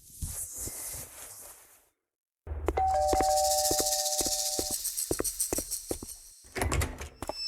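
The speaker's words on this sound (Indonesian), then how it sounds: "Ada orang tekan bel pintu." A doorbell chimes with a steady two-tone ring that holds for a couple of seconds, heard indoors over a busy, bright background of music and room noise.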